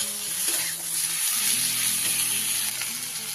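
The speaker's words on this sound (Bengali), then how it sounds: "এইবার আমি এর মধ্যে ভেজে রাখা আলু বেগুন আর শিমটা দিয়ে দিলাম। দিয়ে একটু নাড়িয়ে চাড়িয়ে নেব মশলার সাথে ভালো করে।" Fried potato, eggplant and beans being stirred into a sizzling spice paste for a fish curry, giving a steady close frying hiss with scraping stir sounds throughout, no voices.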